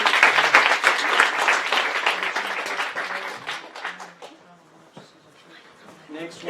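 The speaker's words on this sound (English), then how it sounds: "Give them an applause." Audience applause follows a startup pitch at an incubator kick-off event, loud clapping that gradually thins and fades, with voices talking as it dies away.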